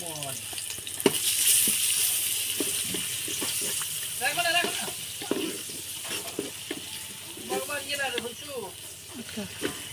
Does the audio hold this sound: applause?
no